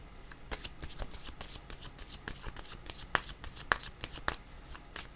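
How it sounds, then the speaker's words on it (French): Tarot cards shuffled by hand in a quiet room, a steady run of soft riffling flicks with a few sharper snaps partway through, close and fairly faint, with no talking. "Je vais demander une carte pour aller"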